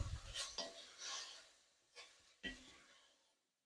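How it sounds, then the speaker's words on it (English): Onions stirred in cooking oil in a pan for dal fry, a few soft scraping and rasping strokes of a utensil against the pan, close and quiet, fading to near silence. "give them a little stir"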